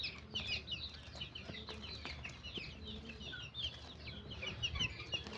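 Chickens at a bird market, with steady clucking and scattered squawks from several hens close by over a low background murmur.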